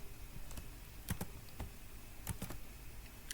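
Sparse, quiet keystrokes on a computer keyboard while JavaScript code is typed, with a few isolated taps followed by a quick double click and more scattered presses at a relaxed pace.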